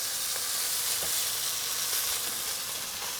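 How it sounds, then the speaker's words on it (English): Steak searing in a very hot pan for Mexican steak tacos, a loud, unbroken hissing sizzle with faint crackles, close by and steady. "just a quick sear"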